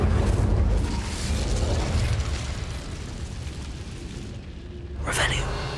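An Incendio fire spell cast in Hogwarts Legacy bursts out as a loud, rumbling whoosh that slowly thins, then a second bright flare flashes up near the end.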